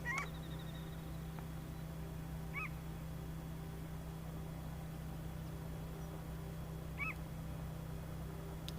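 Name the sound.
noisy bird calling, likely an owl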